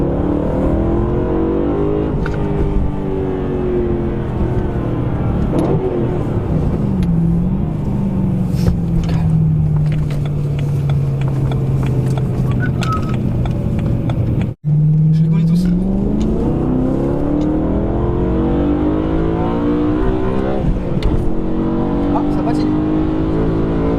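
A BMW M3 E92 with a stage 1 tune, driven on German roads, holds a steady engine drone that rises and falls as it revs through gears, loud and close from inside the cabin, with occupants talking over it.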